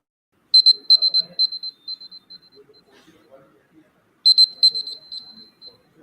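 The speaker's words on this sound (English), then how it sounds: "sound a buzzer, which will sound like this." A presentation timer buzzer sounds in two bursts of rapid high electronic beeps, each fading into quieter trailing tones, with a gap of near silence between them.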